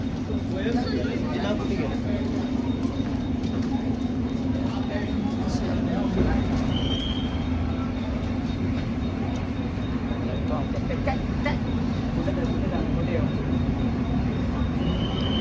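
Steady low rumble of a train moving past at a station on the Mumbai to Lonavala route, continuous and fairly loud, with faint crowd noise and voices underneath.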